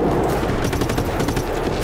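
Rapid automatic gunfire from the video game Just Cause 3 rattles out in dense, close bursts that fill the whole moment, with no talk over it.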